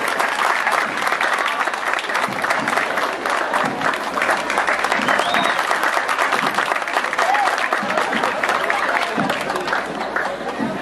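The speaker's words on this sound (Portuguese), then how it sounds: "Vamos aplaudir mais uma vez." A crowd at an outdoor Independence Day public event in Itamaraju claps loudly and steadily, a thick sustained roar of hands with faint chatter mixed in.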